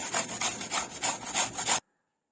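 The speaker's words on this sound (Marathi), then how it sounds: "मी मोठ्या याने किसते दाताने या त्याला काय बोलतात ते त्याने किसून घेते मी" Raw green mango is rubbed against the coarse teeth of a large grater in about eight quick rhythmic rasping strokes, close and clear, before the sound cuts off.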